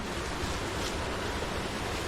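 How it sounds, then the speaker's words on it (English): Waterfall in the Fundy park backcountry in late fall, a steady dense rush of falling water roaring close and loud with no break, filling the whole moment. "I'm gonna show you this waterfall and this view."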